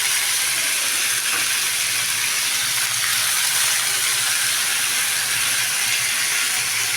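Chopped onions fry in a hot pan for a Bengali egg curry, a steady loud sizzling hiss that holds unbroken throughout with no talk.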